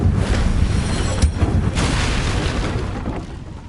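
Confringo fire spell in the video game Hogwarts Legacy: a booming blast with crackling bursts, loud at first and fading over a few seconds.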